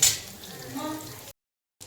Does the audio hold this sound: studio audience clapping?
no